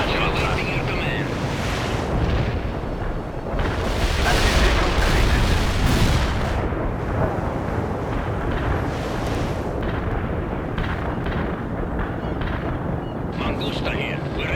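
Artillery fire in the video game World in Conflict: heavy, continuous booming and rumbling blasts that swell loudly around the middle, then settle into a steady roar of distant bombardment.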